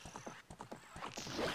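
Horse hooves clip-clop in a steady galloping rhythm with a whinny rising at the end, from the horse racing minigame in the video game Zelda: Ocarina of Time, close and moderately loud with no talking.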